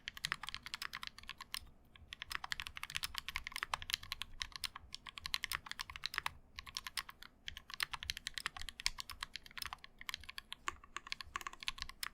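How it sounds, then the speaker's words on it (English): Rapid continuous typing on a KBD Blade60 mechanical keyboard without case foam, close up, with crisp clacking keystrokes and a few brief pauses, soft overall level and no voices. "Without the case foam, there is significant flexing and the typing experience is soft and bouncy."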